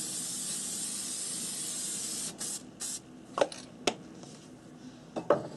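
Workable fixative sprayed from an aerosol can onto a metal mixed-media craft piece, a steady loud hiss lasting about two seconds, followed by quieter short handling clicks and taps.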